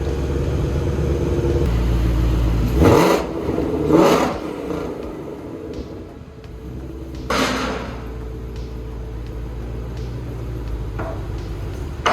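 A throaty Shelby engine with a custom Shift-Tech exhaust revs sharply several times, bursts rising and falling over a low idle rumble, with small pops and clatters between.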